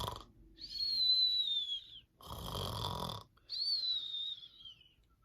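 A voice imitates groundhogs snoring in their den: a breathy, rasping snore with a thin whistling tone, a noisier snort in the middle, then another whistled snore, close and fairly loud.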